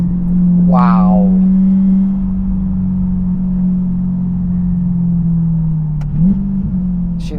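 Steady low burble from a Chevrolet C8 Corvette engine, heard from inside the car as it drives along, holding an even tone with a small blip near the end. A short laugh or voice rises over it early on.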